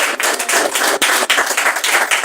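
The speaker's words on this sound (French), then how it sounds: "Est-ce qu'on peut acclamer le Seigneur?" A church congregation clapping in praise to the Lord, fast dense rhythmic hand claps from many people, loud and close, with brief dips in the steady beat.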